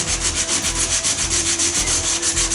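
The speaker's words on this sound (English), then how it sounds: "I start by rubbing the area down." Sandpaper rubbing down a damaged body panel on a scrapped Volkswagen Golf GTI before filler goes on, a fast, even back-and-forth scraping with a steady rhythm, close and loud.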